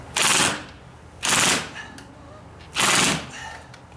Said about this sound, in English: it's a good thing I got the impact drill for this